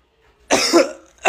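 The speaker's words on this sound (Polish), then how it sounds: "Obstawiamy jaki to kaszel" A single harsh cough, loud and close, with a faint breath or murmur just before it and a second short cough at the very end.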